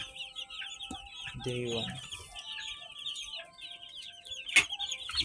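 Day-old broiler chicks, a backyard batch of 74, cheep constantly in a shrill, overlapping chorus close by. A voice speaks briefly partway through.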